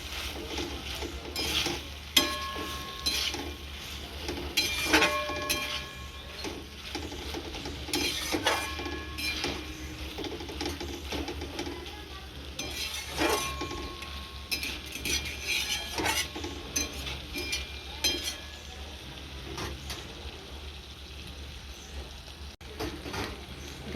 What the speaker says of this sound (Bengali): এবার আমি ভেজে রাখা ঢ্যাঁড়সগুলো দিয়ে মশলাটাকে আরও ভালো করে কষিয়ে নেব।